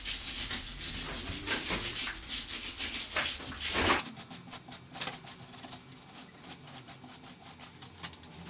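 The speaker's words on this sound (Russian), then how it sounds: "Аккуратненько очищаем болты, гайки от" Hand scrubbing dirt off the bolts and nuts of a GAZ-21 Volga rear axle, a close, brisk brushing rasp in rapid repeated strokes that shifts to lighter, sharper scraping partway through.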